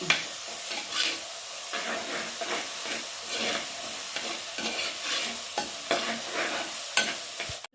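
Ginger and green chillies sauté in a pan with a continuous sizzle, broken by repeated scraping stirs at a moderate pace, close and fairly loud without any voice.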